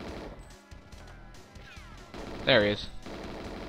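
GoldenEye 007 on the N64 with a sharp burst of in-game gunfire, loud and clustered near the end, over faint game sounds, while a player speaks briefly.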